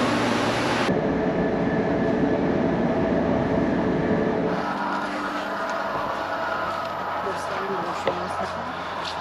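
Train cars rumble along the rails with a loud, steady broadband roar that eases partway through into a lower, quieter ride, heard from inside a train in Turkey; people talk faintly beneath the noise.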